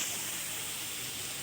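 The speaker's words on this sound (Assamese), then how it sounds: "অকণমান পানী দি পেলাই এইখিনি ভালকৈ ভাজি ল'ম।" A pan of spices with coriander powder sizzles after a splash of water is added, giving a steady, even hiss with no pauses.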